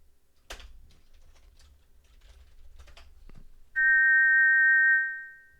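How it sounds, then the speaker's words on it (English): A silver whistle in King's Quest 4 gives a loud, steady electronic tweet lasting about a second, after scattered clicks of keyboard typing. "You put the shiny silver whistle to your lips and forcefully blow into it, producing a loud tweet."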